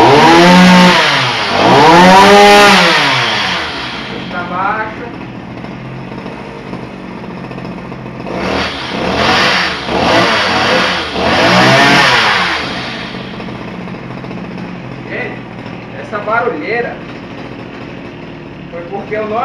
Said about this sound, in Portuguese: vamos ligar o motor